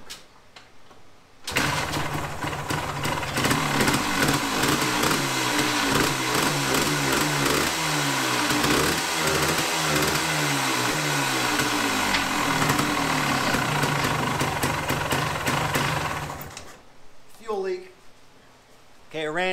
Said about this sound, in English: Sure, it started after 85 kicks and fiddling around, but will it start again now by kicking it?